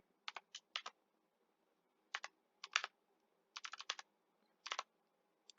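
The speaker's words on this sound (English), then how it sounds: "So let's just type our first set as set A and type some numbers" Quiet, crisp keystrokes on a computer keyboard, typed in short clustered bursts separated by brief pauses in a silent room.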